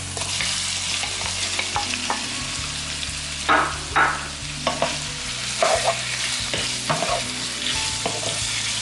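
Chopped shrimp stir-fries with basil in a pan over medium heat: a continuous loud sizzle with several sharp spatula scrapes and tosses standing out, no talking.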